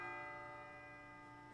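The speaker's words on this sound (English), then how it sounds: "It sounds like a bell" Bell in the video game Persona 3 FES at the top of Tartarus, a single sustained ringing tone slowly fading out, faint and alone.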